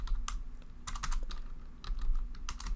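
Quick runs of keystrokes on a computer keyboard, typed in bursts with short pauses between them, close and fairly quiet with no voice over them.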